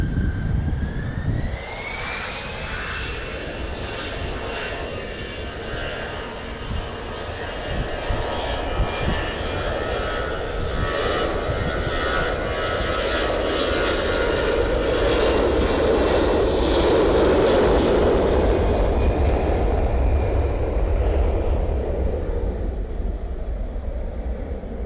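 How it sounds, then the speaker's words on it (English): An EasyJet jet airliner departs at an airport, its engines spooling up with a rising whine and then a sustained, growing roar as it accelerates a long way down the runway, heard from a distance. "Here we go then, with an EasyJet departure."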